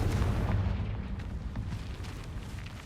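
Booming blast of the Confringo fire spell in Hogwarts Legacy, a loud, dense rumble that fills the whole clip with heavy low-end roar and slowly fading debris noise.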